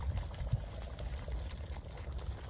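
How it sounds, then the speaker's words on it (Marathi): Paneer masala gravy bubbling in a pan, a steady low burble of popping bubbles with one sharper plop near the middle, close and continuous with no voices. "ग्रेव्हीला छान अशी उकळी आलेली आहे।"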